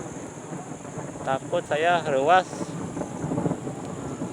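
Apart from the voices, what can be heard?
loud thunder in rain in the countryside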